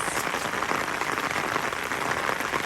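Steady rain falls on a garden yard, a dense even hiss of drops spattering on leaves and wet ground, close and continuous with no voices.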